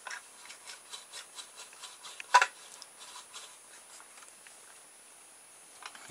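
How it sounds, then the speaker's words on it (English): A blade saws slots into the plastic casing of a toy car, a close, light rasping stroke repeated steadily, with one louder knock midway and fainter strokes trailing off. "let's cut the slots so that we got clearance"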